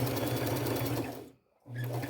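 Sewing machine running a zigzag stitch to attach lace onto a plain white shirt, a close steady mechanical whir that stops briefly and starts again.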